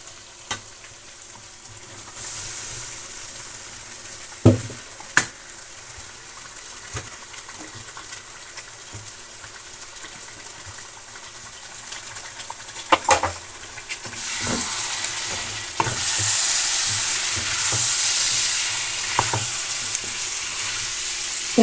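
Potatoes and cauliflower florets frying in a pan for a mixed vegetable dish, a steady close sizzle broken by sharp scraping stirs, with the hiss growing louder and brighter toward the end.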